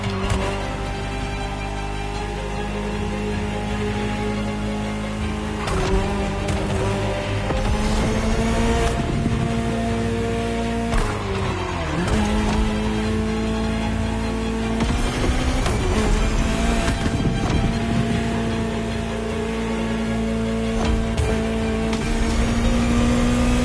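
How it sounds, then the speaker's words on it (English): A Ferrari supercar engine in The Crew Motorfest drives steadily, a loud, continuous engine drone with rising revs and shifts in pitch over wind noise. "Just listen to the car you're driving."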